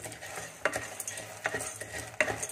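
Popcorn kernels tossed with a tablespoon of oil and half a spoon of salt are stirred in a pan, giving three sharp scraping strokes over a faint steady sizzle, close and clear with no talk.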